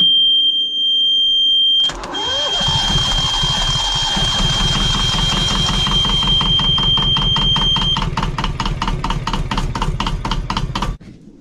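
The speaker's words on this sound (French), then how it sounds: "on va faire un petit direct live démarrage moteur" A sailboat's inboard engine cranks after an oil change, then catches and runs with a loud, rapid, steady knocking rhythm close by, before cutting off abruptly near the end.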